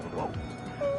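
Short yipping dog bark from the Nightmare on Elm Street video game, a brief electronic-sounding canine whimper and yip with a thin tonal whine near the end.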